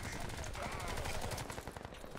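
Weapon fire from the Crysis 2 video game rattles in a quick automatic stream of sharp, closely spaced shots at moderate level, with players talking over the steady bursts.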